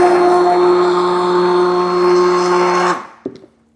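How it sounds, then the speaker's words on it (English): Stick blender whirring steadily in a container for about three seconds with a strong tonal motor whine, then switching off, followed by a brief clatter. "So I use a stick blender, which I even pack in my suitcase."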